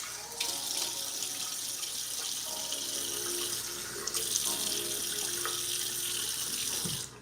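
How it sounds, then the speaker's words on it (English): A tap runs steadily into a sink while someone washes their face, a close, continuous hiss of flowing water with faint splashes and no talking. "gonna have to wash my face."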